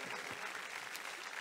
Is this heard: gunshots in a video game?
no